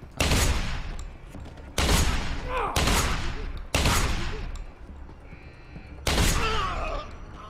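Heavy automatic gunfire in the video game Deus Ex: Human Revolution comes in four long, loud bursts separated by brief gaps, each sustained and booming.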